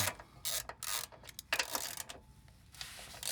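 Bolts are loosened on the side steps of a 2018 Toyota Tacoma with a ratchet, giving quick, faint clicking bursts with short pauses between them, close by and without speech.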